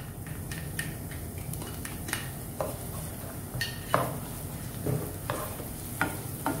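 Onion and garlic sautéing in a pan for a pizza sauce, with a steady low sizzle under repeated sharp clinks and scrapes of a utensil stirring against the pan.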